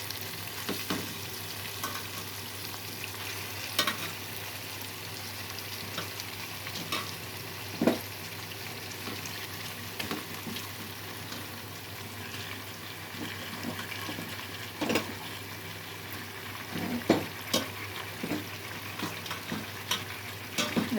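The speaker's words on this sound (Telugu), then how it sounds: "చేప ముక్కలు వేసి కొద్దిసేపు వేయించి తీస్తాను" Fish pieces fry in hot oil for a Nellore-style fish curry, giving a steady, close sizzle with scattered sharper crackles and pops throughout, alone without voices.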